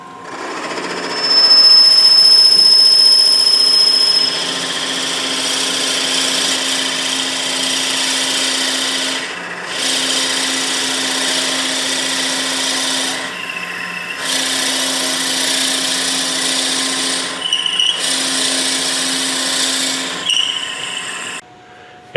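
A wood lathe turns a doughnut cutter as a tool cuts the taper, giving a continuous loud whirring and scraping hum that drops out briefly a few times between passes, with no talking.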